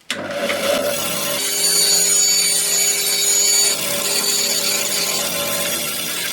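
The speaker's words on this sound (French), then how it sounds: "vous allez faire un trait de scie" A power saw whirs into wood at close range, cutting a kerf in a wave bowl blank for woodturning, a steady high-pitched buzzing cut lasting several seconds with a brief dip midway.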